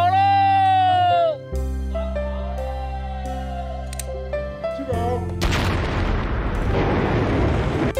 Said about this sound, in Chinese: 放炮了，